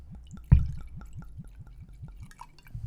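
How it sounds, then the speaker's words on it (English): Drink pours from a cork-topped bottle in a steady, evenly pulsing glug with a brief clunk near the start, close and fairly quiet. "Time to pour."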